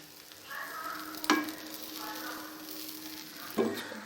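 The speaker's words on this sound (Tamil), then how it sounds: "மறுபடியும் நல்லா மிக்ஸ் பண்ணிக்கலாம்." Chilli bread, fried bread cubes tossed with coriander leaves in a pan, is stirred with a soft sizzle and two sharp scrapes of the spoon against the pan, quiet and close.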